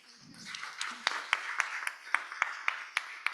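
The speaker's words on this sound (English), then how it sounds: "A round of applause," An audience at the opening of a vocational education event gives a short round of applause. The claps come crisp and evenly spaced, and the sound rises quickly and stays fairly light throughout.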